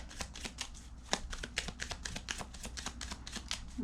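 Tarot cards being shuffled by hand, a rapid run of crisp riffling bursts repeating in a steady rhythm, close and fairly quiet, with no talking.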